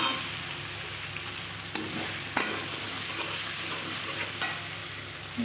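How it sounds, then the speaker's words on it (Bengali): Potatoes and peas frying in a pan under a constant bright sizzle, with a few sharp stirring scrapes spaced out over several seconds and no talking. "মটরশুঁটিটাও আমি দিয়ে দিলাম, দিয়ে একটু নেড়ে চেড়ে নিলাম।"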